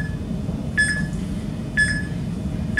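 Three short electronic beeps from a workout interval timer, evenly spaced about a second apart, sounding over low steady background hum at the start of a full-body dumbbell circuit.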